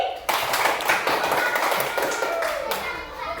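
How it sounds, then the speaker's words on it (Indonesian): Children in an Indonesian Christian religious education class clap their hands together after the teacher prompts another round, a dense burst of claps starting abruptly and continuing steadily, close and fairly loud, with no talk over it. "Tepuk tangan sekali lagi."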